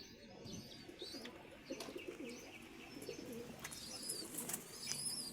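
Pigeons coo in a low, repeated rolling murmur close to the microphone, with occasional higher chirps and tweets from other birds scattered through the clip.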